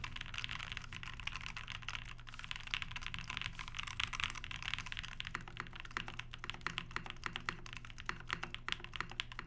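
Rapid, continuous typing on a custom Flybeck Zoku mechanical keyboard, dense clacky keystrokes close up and fairly loud, with the pace quickening in the second half; no voices.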